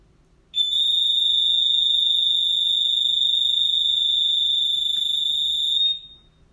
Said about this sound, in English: This is what the alarm sounds like.